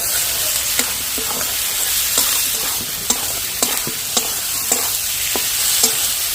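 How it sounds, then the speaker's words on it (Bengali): Fried potatoes being stirred in a pan of ghugni masala: loud, steady sizzling crackle with repeated sharp scrapes and clacks of a spoon against the pan, no voices. "এবার আমি দিয়ে দিচ্ছি ভেজে রাখা আলুগুলো আলুটা দিয়ে কিছুক্ষণ নেড়ে নেব"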